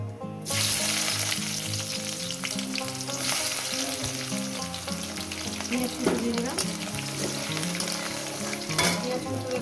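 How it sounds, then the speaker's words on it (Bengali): Chopped onions fry in hot oil with whole garam masala, cumin seeds and a bay leaf, a steady loud sizzle running throughout with occasional stirring scrapes, cooking for a chicken curry. "ভালো করে সুন্দর করে লাল লাল করে ভেজে নেব"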